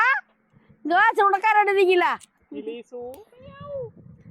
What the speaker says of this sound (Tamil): பூனைக்குட்டினா மியாம்பா